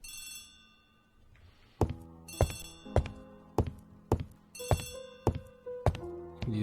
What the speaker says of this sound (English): He is not very fast answering the phone.